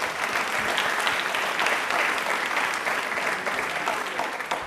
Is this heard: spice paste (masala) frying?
no